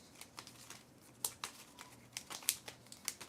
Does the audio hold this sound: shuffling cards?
yes